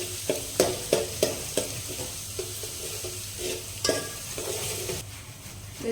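Garlic frying in hot oil in a home kitchen, a close sizzle punctuated by repeated rhythmic stirring clacks of a spoon against the pan, without speech.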